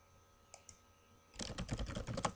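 Computer keyboard typing a password to protect a document: a couple of isolated clicks, then a rapid burst of keystrokes, close and fairly quiet.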